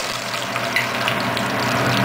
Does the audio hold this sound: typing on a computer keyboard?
no